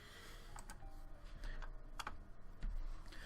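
Several scattered clicks of keys on a computer keyboard, including the spacebar, tapped at an uneven pace over a steady low background hum, fairly quiet and with no voices.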